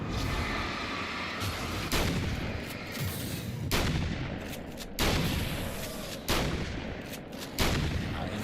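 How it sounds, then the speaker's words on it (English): Repeated shotgun blasts in the video game Alan Wake's American Nightmare, roughly six booming shots at irregular intervals of one to two seconds, each a sharp crack followed by a rumbling tail over steady background noise. "I am terrible with shotguns."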